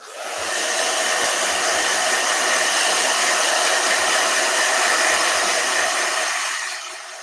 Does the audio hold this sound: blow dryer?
yes